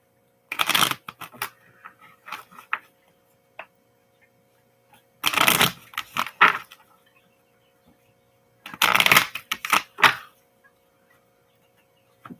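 Tarot cards are shuffled in three separate bursts with quiet pauses between, a crisp riffling close by.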